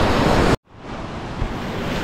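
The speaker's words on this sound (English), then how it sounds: "So the waves don't appear to be too big, so I'm going to be able to take a dip in the ocean as well." Ocean waves wash onto a tropical beach on Nusa Penida island, a steady loud roar of surf cut off by a brief drop to silence before the hiss resumes, with some wind buffeting.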